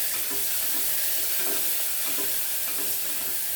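Sliced onions sizzle steadily in hot oil in a pan, a continuous bright frying hiss with occasional stirring scrapes, close and alone with no talk.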